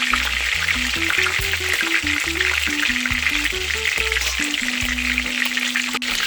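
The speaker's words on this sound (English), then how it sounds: "I'm almost finished browning up my chicken, my turkey wings." Turkey wings browning in a pan for Jamaican stewed turkey wings give a steady, loud sizzle and fry throughout, with musical tones playing over the cooking and no talk.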